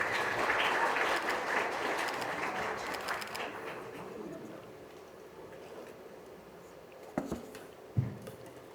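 Guests at a hotel wedding hall applaud the officiating pastor, a moderate burst of clapping that swells briefly and then fades to a quiet room, followed by a couple of soft knocks.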